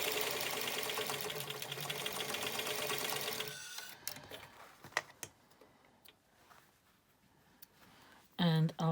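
A sewing machine runs a stay stitch on a shaped fabric face mask, its rapid stitching close and steady for several seconds before stopping, followed by scattered handling clicks and a brief voice at the end.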